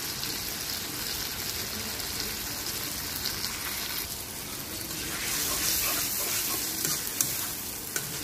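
Spices with salt, turmeric and chili powder fry in a pan, giving a continuous bright sizzle and crackle with occasional stirring scrapes, growing a bit louder partway through, with no voices.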